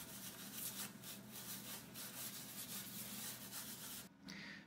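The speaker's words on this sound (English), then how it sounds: "I'm going to work slowly and patiently, just blending a little bit at a time." Charcoal is blended on paper for a cloudy sunset landscape drawing with soft repeated rubbing strokes, very faint and close, with a short pause near the end.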